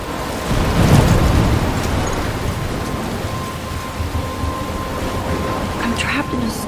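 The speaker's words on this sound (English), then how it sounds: "I'm trapped in a storm?" Steady rain pours through a storm in the video game Life Is Strange, with a deep thunder rumble near the start and constant hiss throughout.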